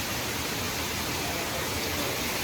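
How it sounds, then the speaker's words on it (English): Waterfall at Black Star Canyon Falls, a dense, steady rushing roar of falling water, broad and unbroken, fairly loud and close, with no talking. "Check out that waterfall."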